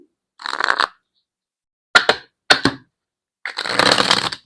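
Oracle cards being shuffled and pulled by hand, four separate close riffling bursts with silent gaps between them, the last one longest.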